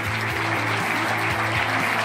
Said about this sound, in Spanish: Un fuerte aplauso para Javier